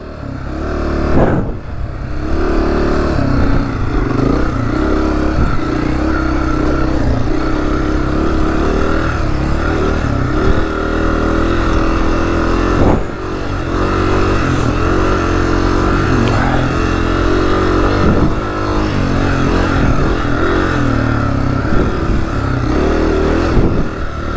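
A Honda CRF250F dirt bike ridden across Arizona desert single track roars close and loud, its single-cylinder engine revving and easing continuously with gear and throttle changes, plus wind buffeting.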